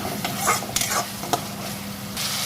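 Tomato, onion and chili with turmeric sizzle in a frying pan while a spoon stirs, scraping and clicking a few times over a steady close sizzle.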